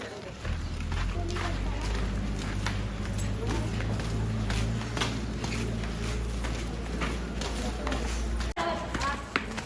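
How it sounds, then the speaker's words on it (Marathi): Hooves clopping steadily on hard ground as cows walk past nearby, with a continuous low hum and people chattering in the background near a ropeway. "गाई सगळी चाललेली आहे"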